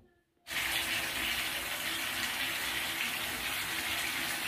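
Running water from a tap pours steadily into a bathtub, starting abruptly after a brief silence and continuing as a close, even, full gush with no voices.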